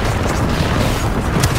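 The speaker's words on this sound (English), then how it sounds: "Look out, grenade!" A deep, rumbling grenade explosion in the Apex Legends video game, a sustained booming roar that stays loud and fills the whole moment without any voices.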